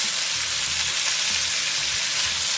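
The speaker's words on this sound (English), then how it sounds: "And then in is going the pork right now," Pieces of pork sizzle and fry steadily in a hot pan for Filipino pancit stir-fry, a loud continuous crackle with no speech over it.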